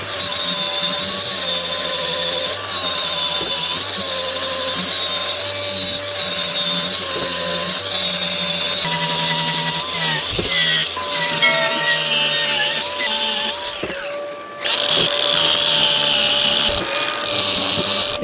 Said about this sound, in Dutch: Ik heb ervoor gekozen om de boomstronk heel goed te schuren en te polijsten.